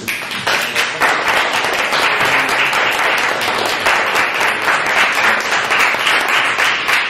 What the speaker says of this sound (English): let's have one last round of applause for all our panelists